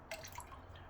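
A wet shaving brush dunked into water, giving a brief close splash and dripping, soft and quiet, with no voices.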